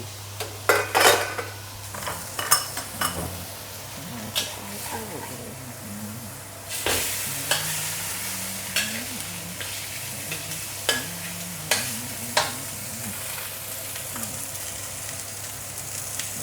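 Fish head sizzling as it fries in a pan for a tofu and salted vegetable soup, with a steady crackle and repeated sharp clinks and scrapes of a utensil stirring against the pan, close and fairly loud.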